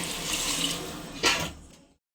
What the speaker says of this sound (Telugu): ఇప్పుడు కర్రీలో వాటర్ పోసేసుకుని లో టు మీడియం ఫ్లేమ్లో ఉడికించుకుందాము